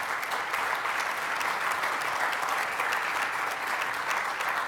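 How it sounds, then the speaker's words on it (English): An audience at the closing session of the RTCA 2017 Symposium claps steadily for the conference staff, a dense, continuous round of applause from a crowd in a hall. "I want to give a round of applause to all of them"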